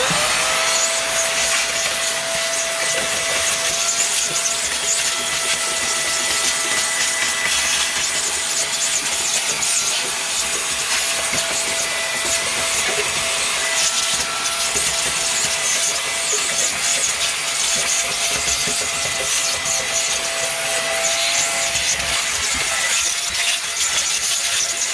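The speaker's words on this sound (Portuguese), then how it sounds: "depois de fazer toda a limpeza aqui do assoalho, né, como eu mostrei pra vocês aí com o aspirador" A vacuum cleaner drones continuously while it sucks dust off the floor pan of a Volkswagen Variant, with a steady high whine and scraping rubs as the nozzle moves over the metal, loud and close, no talking.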